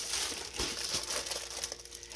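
Glitter paper for a Christmas die-cut card crinkles and rustles close up as it is handled, a few soft crackling bursts in a quiet room with no talking.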